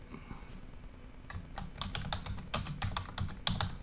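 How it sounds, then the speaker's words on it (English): Typing on a computer keyboard, a run of close, quick clicking keystrokes that grow busier and louder toward the end, with no talking. "we're going to type in"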